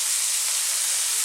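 Vegetables for a vegan masala curry sizzle in a hot pan over fairly lively high heat, a steady, loud, bright hiss with no breaks and no talking.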